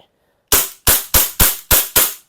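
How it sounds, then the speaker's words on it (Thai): A Glock 18C gas-powered airsoft pistol fires six sharp, loud semi-auto shots at close range, evenly spaced in quick succession after a brief silence. "มาทดสอบยิงกันเซมิ"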